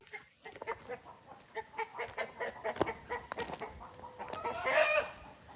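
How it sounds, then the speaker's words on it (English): Chickens on a homestead, agitated after sensing a deer nearby: a run of repeated, rhythmic clucks from several hens close by, building to a louder, denser burst of squawking near the end. "Next up is our noisy chickens here."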